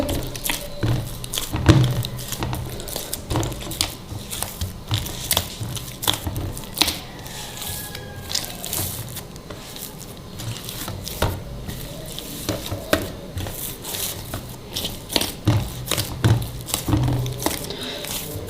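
Chapati dough being kneaded by hand, with water worked in, giving soft, irregular squishing and patting sounds alongside scattered taps and knocks throughout.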